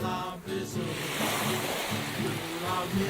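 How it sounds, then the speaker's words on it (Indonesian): Ocean waves break steadily on a beach shore at Rani Island, Supiori, in Papua, forming a continuous loud wash of surf with some wind, while a voice speaks faintly over it at the start and end. "suara deburan ombak"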